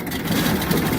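An engine held at a raised idle, steady and a bit faster than needed to keep running, gives a continuous low rumble close by with a slight lift partway through and no voices.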